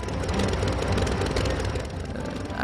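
A propeller plane's engine drones steadily and loudly while coming in to land on an inclined runway in the flight game Sky Odyssey, a constant dense roar with no one speaking.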